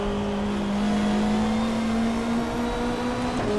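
A race car engine in the GTR2 video game, 1995 Australian Super Touring Championship at the Gold Coast Indy circuit, holds a steady sustained drone with a brief shift near the end and no talking.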